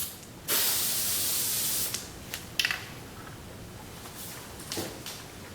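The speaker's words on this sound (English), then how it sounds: "And give it another up-down spray." A spray can of Brownells Aluma Hyde paint hisses in one steady blast lasting over a second, followed by a few short clicks and brief rattling handling sounds, close and without speech.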